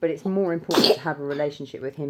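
One abrupt, close human sneeze cuts into a man's sermon-style speech, with his talking continuing right before and after it.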